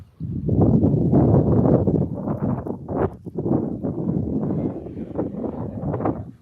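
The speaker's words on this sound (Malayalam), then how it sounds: "നല്ല കാറ്റൊക്കെ ഉണ്ട് ഞാൻ കാറ്റ് കാണിച്ചു തരാം" Gusty wind buffets the microphone with a loud, rough rumble that surges and dips throughout.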